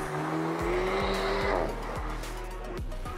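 Alpine A110 2018 sports car with its engine revving loud and close, rising and dropping through quick gear changes with a sharp, continuous note, alongside some tire squeal.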